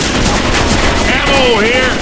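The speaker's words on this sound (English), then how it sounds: "I'll give the shotgun a try." Shotgun fire in the zombie shooter Left 4 Dead 2 on expert difficulty, Death Toll campaign, dense overlapping gunfire bursts amid loud chaotic game noise, with a voice speaking briefly over it.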